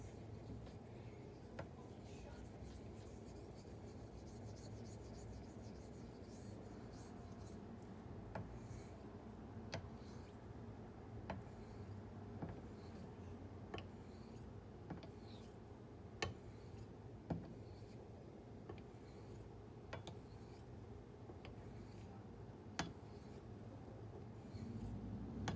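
Solingen straight razor honed on synthetic stones gives faint, steady scraping strokes with soft ticks and clicks scattered throughout, close and quiet under a low background hum.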